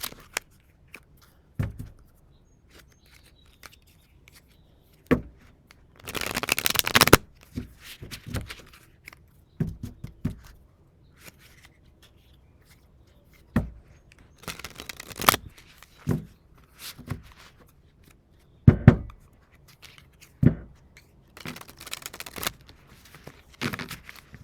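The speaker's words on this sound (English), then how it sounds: "Let's do some shuffle, shuffle, shuffle here." Cards are shuffled in repeated quick riffles, each burst a crisp fluttering rattle, separated by pauses with faint handling noises.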